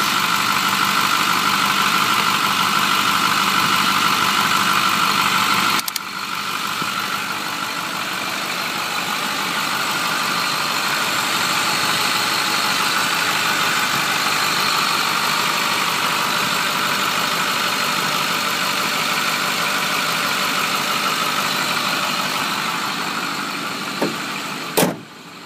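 A 2008 Ford F350 dually flatbed with the 6.4 diesel idles warm at operating temperature, a steady, close, even engine drone running nearly the whole time, with a brief dip and a faint thump near the end.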